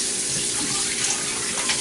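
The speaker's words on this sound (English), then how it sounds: "I'm going to be washing my meat." Tap water runs steadily into a sink while goat meat is washed, a loud continuous splashing rush that fills the whole stretch with no speech.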